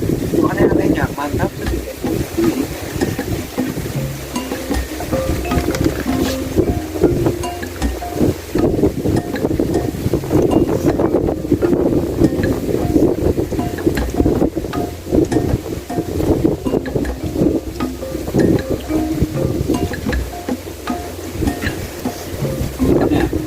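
Strong wind buffets the microphone outdoors in a steady roaring gust lasting throughout, with people talking over it.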